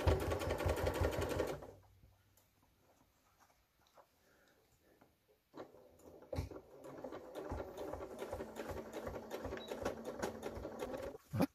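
A sewing machine stitches all around the edge of an XL tote bag at a 1 cm seam allowance, running in a steady close burst, stopping for a quiet pause, then whirring again continuously to the end.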